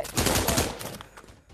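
A burst of gunfire in the video game Pavlov during a murder mystery match, a quick rapid string of shots that tails off within about a second and a half.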